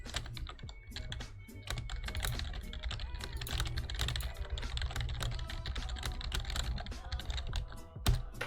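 Rapid computer keyboard typing clatters continuously and close, with uneven bursts of keystrokes and a sharper thump near the end, no voices over it.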